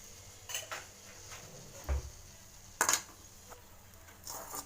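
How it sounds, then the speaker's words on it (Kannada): Cumin seeds being dry roasted in a pan make scattered light metallic scrapes and clinks of a spoon against the pan, with a few sharper knocks. The sounds are close and there is no talk. "ಇವಾಗ ಜೀರಿಗೆ ಹಾಕ್ಕೊಳ್ತೀನಿ. ಜೀರಿಗೆ ಇದನ್ನು ಹುರ್ಕೋಬೇಕು."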